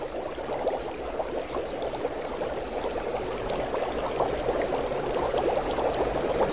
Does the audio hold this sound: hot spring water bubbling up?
yes